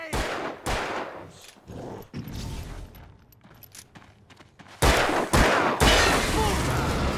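Bursts of gunfire in the Alan Wake video game, loud and close, come in irregular volleys with a quieter stretch in the middle before a dense, heavy barrage resumes.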